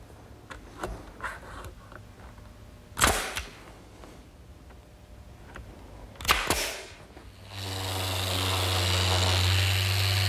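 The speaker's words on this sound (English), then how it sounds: "Now I can nail the rail in place." Two sharp, loud impacts roughly three seconds apart as a nailer drives a coffee table rail into place, with a steady workshop hum and a louder noise building near the end.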